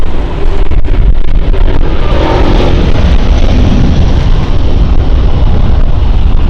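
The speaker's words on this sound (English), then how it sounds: "Listen to the engines." An Airbus A330neo airliner takes off at Lisbon Airport, its jet engines giving a loud, continuous roar and rumble that stays strong throughout, with some wind buffeting on the microphone.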